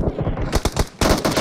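Gunfire in PUBG Mobile: loud, close bursts of rapid automatic shots, a short volley, a brief pause, then another quick burst, with no talking.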